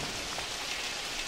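Steady rain hiss from the Super Mario Odyssey video game, a dense, continuous patter that stays even and fairly loud throughout, with no voices.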